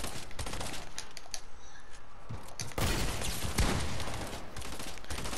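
Rapid SMG fire in a video game rattles in dense, sustained bursts, loud and close, with a brief pause before another heavier stretch of shooting.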